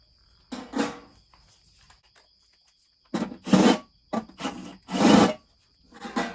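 A drill enlarging holes in a metal RV bumper while repairing a bumper-mounted grill, heard as several separate close grinding, rasping bursts with short pauses between them.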